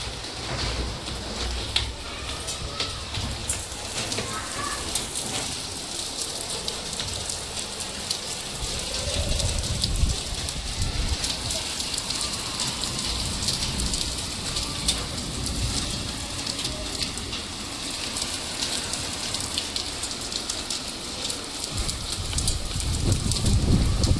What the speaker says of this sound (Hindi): ये देखो दोस्तों ओले